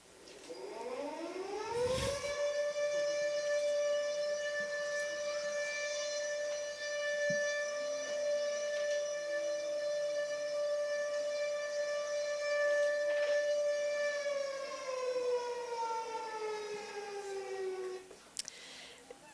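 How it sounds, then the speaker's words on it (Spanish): An anti-nuclear civil defense alarm siren of the Cold War era winds up to a loud, steady wailing tone, holds for many seconds, then slowly winds down, with no talk. "Lo que acaban de escuchar es una alarma antinuclear."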